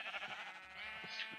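Sheep in a video game bleat in a short, wavering cry that stays faint and fairly close, with nothing else over it.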